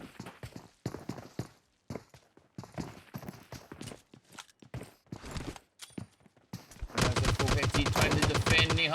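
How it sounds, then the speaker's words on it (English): PUBG Mobile gunfire during an esports grand final: rapid bursts of shots crackle in short clusters early on, then a long sustained barrage of loud automatic fire fills the final two seconds. "Shots going off."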